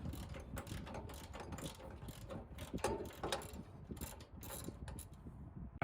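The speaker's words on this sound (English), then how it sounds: "It's a 13 mil. Just going to need a socket with a little extension." A socket wrench with an extension ratchets 13 mm bolts off side paneling on a 2018 Freightliner Cascadia during a heater core job, giving faint, rapid pawl clicks against a quiet background.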